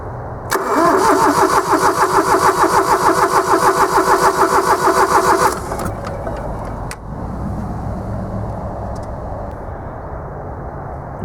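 A Kubota three-cylinder gas/LPG engine cranks with a loud rhythmic starter churn for about five seconds, then catches and settles into a steady idle.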